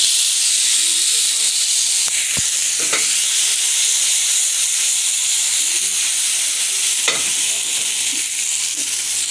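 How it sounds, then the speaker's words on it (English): Tomatoes and chili frying in a heated pan for salsa, a steady loud sizzling hiss throughout with a few sharp clicks of utensils, no talk. "So we have our pan heated. And we are going to add our tomatoes."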